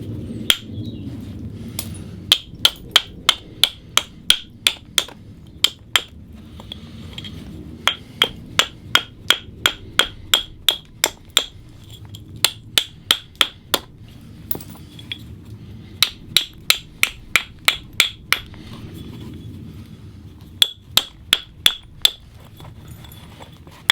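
Hammerstone knapping flint to trim the edges of a stone dagger blade, with a long series of sharp, ringing strikes at an irregular pace, some in quick clusters, close and loud over a low background rumble, with no talking.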